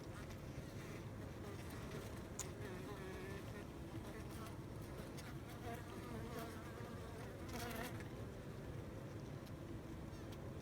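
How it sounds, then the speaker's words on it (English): Honeybees in a hive from a cutout buzz steadily at close range, a dense droning hum with individual insects flitting past, while a voice speaks softly now and then. "Hello bees."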